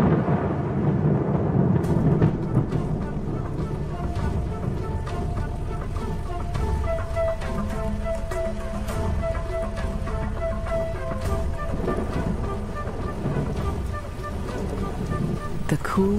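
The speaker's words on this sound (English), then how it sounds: "the promised rain arrives at last" Steady heavy rain pours down with low rumbling thunder beneath it, a dense continuous wash of sound throughout.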